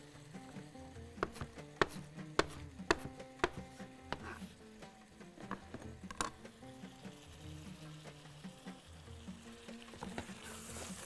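Dill chopped with a knife on a board for Bahraini machboos with calamari, clams and crabs: a run of sharp, close, irregular chops rising over a steady low kitchen hum and faint sizzling, with no talking.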